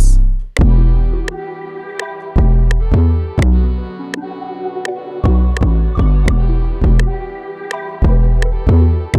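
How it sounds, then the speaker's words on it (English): Deep 808 bass drums in an electronic music production boom in a steady pattern, each long low hit ringing under bright sharp percussion and a full mix, loud and close with no voices. "I'm gonna add some 808s."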